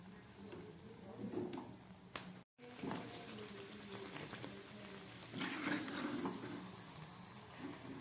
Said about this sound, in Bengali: পুরিগুলো যেহেতু একটু মোটা ভারী, একটু কড়া করেই ভাজতে হবে